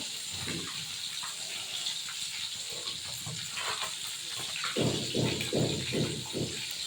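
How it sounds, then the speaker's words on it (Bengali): Cut eggplant pieces are rinsed under running water, a hissing flow with splashy bursts that grow louder and more rhythmic toward the end, with no speaking. "বেগুনগুলো কেটে ধুয়ে নেব"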